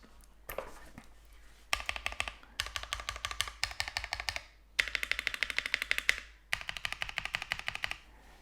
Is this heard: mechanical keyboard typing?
yes